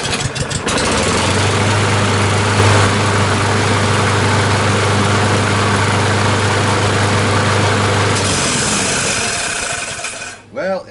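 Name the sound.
Kohler 149cc XT engine running on Lawn-Boy mower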